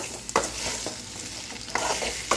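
Cassava pieces are tossed in a sizzling pan for a stir-fry, with a steady fry hiss broken by several sharp spatula scrapes and knocks at irregular intervals, close and unvoiced.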